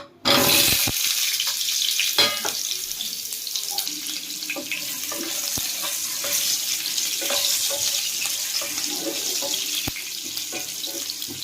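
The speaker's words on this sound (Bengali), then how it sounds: "প্রথমে আলুগুলো ভেজে নেব।" Potato pieces fry in hot oil with a continuous bright hiss and crackle, steady and close for the whole stretch, with occasional soft clinks.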